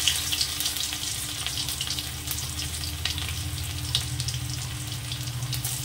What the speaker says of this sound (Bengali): রসুনটাকে সুন্দর করে ভেজে নেব